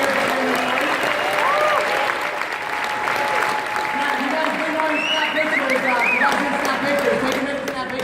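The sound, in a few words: audience applause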